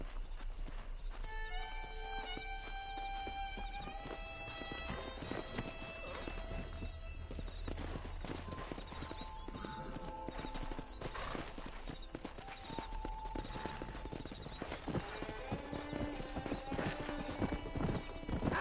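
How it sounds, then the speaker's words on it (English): Wild horses in the Red Dead Redemption game: steady clip-clopping hooves with several whinnies and neighs over a continuous musical and ambient backdrop, the herd sounding fairly close throughout. "there's a pack of wild horses nearby."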